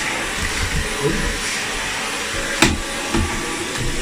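Dyson V11 Absolute cordless vacuum cleaner running steadily close by, a loud continuous motor whine and airflow rush with a brief bump partway through as it is moved.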